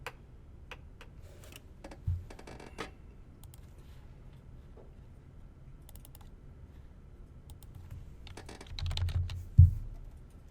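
Sparse, light keystrokes on a computer keyboard, quiet and close, with scattered single clicks and short bursts separated by pauses; no one speaks.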